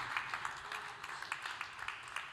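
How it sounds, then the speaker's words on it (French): An audience at a nutrition and health conference claps quietly and at a distance, with soft, fairly regular hand claps pulsing over a low murmur of the room. "Que l'on peut applaudir"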